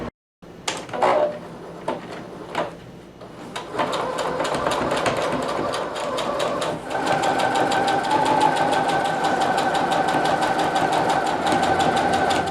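A sewing machine stitches a replacement Sea-Doo seat cover: a few knocks and clicks at first, then a steady close mechanical whir that runs on evenly, with no talking.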